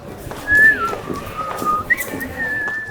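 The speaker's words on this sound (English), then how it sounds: "Let me hear your best whistle." A person whistles a short, wavering tune up close: a gliding falling note, then a higher held tone, with faint background noise.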